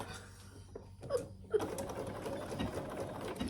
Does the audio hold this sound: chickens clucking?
no